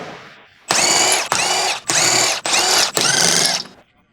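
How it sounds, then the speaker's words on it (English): Electric impact wrench with a 22 mm long socket removing the rear wheel hub nuts on a 2007-2013 Acura MDX, five loud buzzing, rattling bursts in close succession with brief pauses, close up and alone. "Use 22 mm long socket with electric wrench to remove rear wheel hub nuts."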